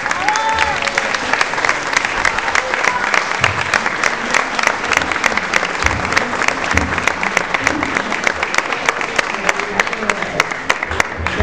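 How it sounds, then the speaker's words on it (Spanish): Sustained audience applause at a political year-end event in Uruguay, a dense steady crowd clapping that holds loud and even throughout with no pause. "acá también quiero que le brinde un fuerte aplauso"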